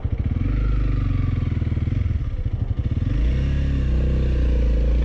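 A Honda CRF300L motorcycle rides along a loose gravel road, its single-cylinder engine thrumming loudly and steadily up close, with a brief shift in pitch partway through and a faint clatter of gravel.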